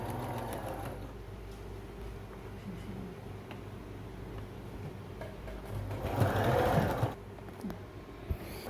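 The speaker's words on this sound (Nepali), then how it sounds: "अब यो बेल्ट राखेर यसरी सिलाउने।" A sewing machine stitches a belt onto a homemade cloth bag, a quiet continuous mechanical hum with light ticking and a brief louder whirring burst late on.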